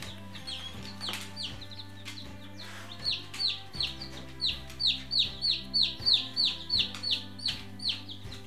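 Rapid high-pitched peeping from baby chicks repeats in a steady run over a low droning background hum, growing louder and busier in the second half.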